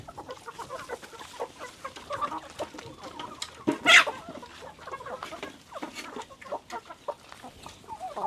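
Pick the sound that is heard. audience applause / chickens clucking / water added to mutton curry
chickens clucking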